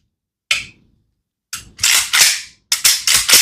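AK rifle with a three-position force-reset trigger clicking mechanically: one sharp snap, a pause, then a quick burst of several loud, close metallic clacks in rapid succession.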